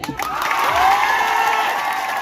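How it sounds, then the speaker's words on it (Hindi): A crowd at an Adivasi Day rally in Guna breaks into applause and cheering, a brief, dense burst of clapping and shouts that swells and then holds steady. "इसलिए अपने लिए जोरदार ताली बजाओ।"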